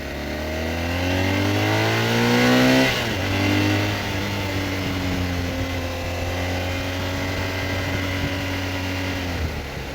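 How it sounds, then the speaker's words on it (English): A 2010 BMW R1200-RT motorcycle accelerates hard close by, its engine note climbing steeply, then briefly dropping at a gear change before pulling on steadily at a lower pitch, with no talking. "accelerating with this big bike is like a breeze."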